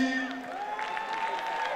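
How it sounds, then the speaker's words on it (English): A crowd at a live comedy show applauds a comedian being introduced, fairly faint clapping with scattered cheers under a sustained musical tone. "Ladies and gentlemen, a round of applause for Bucci."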